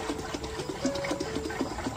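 Water runs steadily into a container, a continuous wash of flow dotted with small bubbling blips and gurgles, heard up close with no talking.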